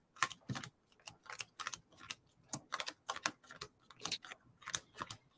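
Lenormand cards shuffled by hand, close up: a quick series of crisp papery taps and riffling bursts in an uneven rhythm, with no talking.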